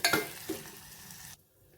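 Onion, tomato and spices for sambar sizzle and are stirred in a pan, a close, bright frying hiss with spatula scrapes that runs for just over a second and then abruptly cuts to near silence.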